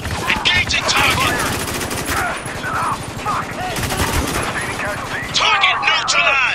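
Sustained bursts of automatic gunfire and rattling fusillades from a Spec Ops: The Line firefight, loud and near throughout, with shouted voices cutting in over the shooting.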